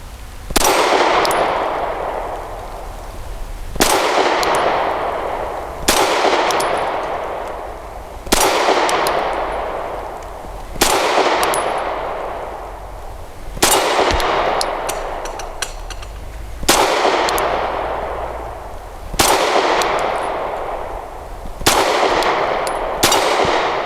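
Grand Power P1 Ultra pistol rounds striking a steel target, nine sharp metallic clangs spaced about two seconds apart, each ringing and fading before the next, loud and close with no talking.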